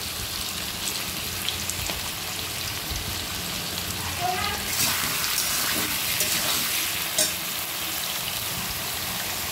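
Ginger garlic paste frying with fish, potato and pumpkin in a pan for a Bengali fish curry, a steady close sizzle like light rain with a few stirring scrapes and no talking.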